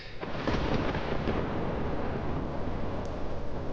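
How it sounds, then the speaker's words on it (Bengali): A thunderstorm on a night of a violent nor'wester over a river, heard as a steady, loud, roaring rumble of thunder and wind with no break, with no one speaking. "বাইরে প্রলয়ঙ্কর ঝড়"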